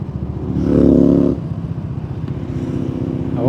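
A Bajaj Dominar 400 motorcycle engine thrums steadily in third gear, loud and close, swelling briefly as the throttle opens and then settling back into a low, even rumble.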